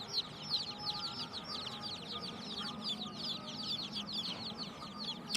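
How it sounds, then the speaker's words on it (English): Newly born chicks on a farm chirping together, a dense, continuous chorus of high, rapid peeps close by over a low background murmur. "now some chicks sitting in the farm and talking together"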